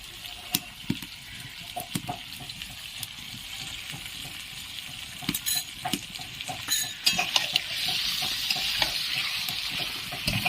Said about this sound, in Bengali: এবারে এটি ভালো করে কষিয়ে নিতে হবে। এভাবে এটি ভালো করে কষিয়ে নেবে।